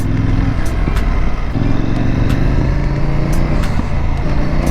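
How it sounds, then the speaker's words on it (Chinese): A CFmoto 800NK motorcycle idles with a loud, rough exhaust rumble, broken by several sharp backfire pops spaced irregularly across the few seconds. "哇，它这个回火放炮声音真的很响。"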